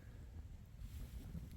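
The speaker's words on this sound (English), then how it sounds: "A little windy right now." Wind buffets a lakeside camp beside a lean-to during a fall canoe trip in the Adirondacks, a steady low rumble of gusts against the microphone with no voices.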